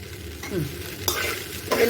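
Idli upma with grated coconut stirred in a pan, with short scraping and clattering spoon strokes over a light sizzle, close and fairly loud.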